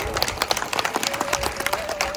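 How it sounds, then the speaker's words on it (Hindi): A smaller crowd claps at a Ramlila gathering in Sunaldi, individual claps audible in an uneven, fairly quick rhythm, moderately loud, with a faint tone running underneath. "तो एक बार अध्यक्ष जी के लिए भी मेरी तरफ से 2 जोरदार तालियां बजा दो।"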